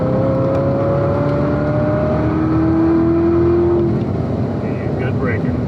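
A 2019 Corvette ZR1 accelerates hard around the Spring Mountain race track, its engine drone rising steadily in pitch under loud cabin rumble, with people talking over it.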